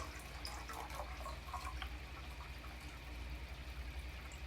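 Tank water is poured into a dinoflagellate culture, a faint, steady trickle against low background hum, with no talk.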